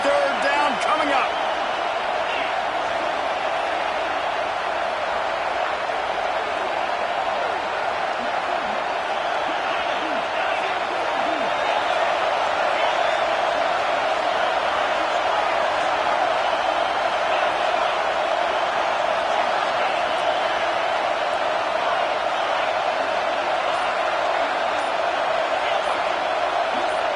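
Roaring stadium crowd at an LSU home game in Baton Rouge within a college football video game, a loud, continuous wash of cheering and noise on a critical third down with no letup.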